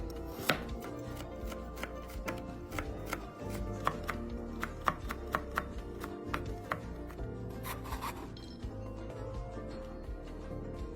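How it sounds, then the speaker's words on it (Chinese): A knife chops 70 grams of carrot slices into fine shreds on a cutting board, with quick, steady close-up taps of the blade in an even rhythm and no talking. "胡萝卜70克，先切片， 再改刀切成丝。"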